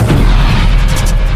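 A bomb blast in a Telugu action film scene, a loud, deep booming explosion with a heavy low rumble that fills the whole moment, no talk over it.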